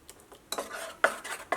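A spoon stirs rice and urad dal batter for appam in a bowl, giving a few quick, close scraping and clinking strokes with quiet gaps between them.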